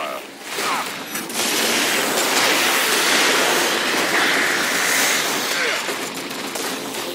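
Bursts of gunfire in the Warhammer 40,000 Kill Team video game, a loud, dense sustained roar of rapid shots lasting several seconds, with no talking over it.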